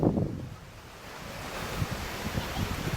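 Water of a cold mountain lake in Norway laps and splashes softly at the shore while gusts of wind buffet the microphone.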